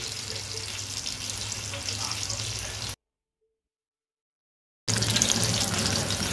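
Marinated mackerel (bangda) fries in a pan with a steady, close, hissing sizzle that runs on, cuts to silence for about two seconds, then resumes just as strongly.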